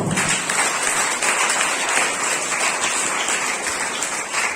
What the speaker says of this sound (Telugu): ముందరెక్కడ చప్పట్లు ఉంటాయి కదా